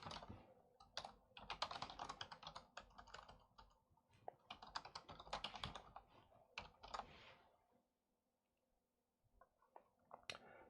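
Typing on a computer keyboard while signing into design software, quick bursts of light, close key clicks with short gaps, fading to near silence before a few final taps.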